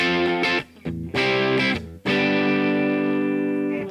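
Clean electric guitar tone with the MXR Distortion+ clone pedal switched off, a few plucked chords ending in a long ringing one that sustains and slowly fades, played alone and close.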